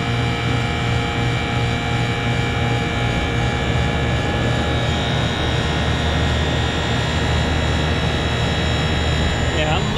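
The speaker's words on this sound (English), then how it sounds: "looks like that fan motor is working now because it's warm" A walk-in freezer condenser fan motor, one with a failing motor and fan cycle switch, runs as a steady, loud, unbroken drone with a low hum and a constant airy whoosh throughout.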